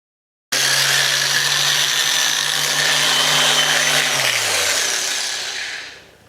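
Power polisher with an abrasive pad working over a mandolin's finish, switched on abruptly into a loud, steady motor whine with a rubbing hiss, then the pitch drops as it slows and winds down to silence.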